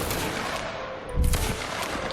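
Line infantry volley in a video game: a single crackling burst of massed musket fire, loud and close, rising briefly out of a background of low noise.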